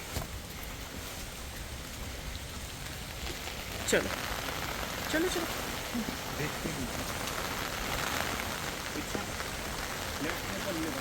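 Steady monsoon rain patters on surfaces all around on the trail from Govindghat to the Valley of Flowers National Park, a constant soft hiss, while a voice briefly speaks over it.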